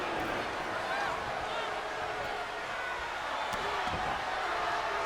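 An arena crowd in the WWE 2K23 wrestling game keeps up a broad, constant roar of murmuring and jeering throughout, steady and moderately loud. Faint thuds from the ring come through it.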